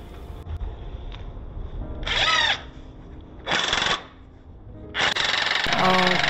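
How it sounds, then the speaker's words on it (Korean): A power drill drives screws into wooden raised garden bed boards in three close, loud bursts, each whining briefly as it slows, with quieter handling noise between them. "그런 다음 스크루 박아야지"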